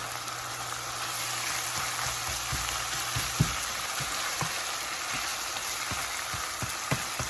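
Meat and vegetables for a Philly cheesesteak omelette brown in a hot pan with a steady close sizzle, punctuated by occasional soft taps and scrapes of stirring.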